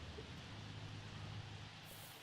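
Rain from The Sims 4 game, a soft continuous patter and hiss that stays even and fairly quiet, with a faint low hum underneath and no talking.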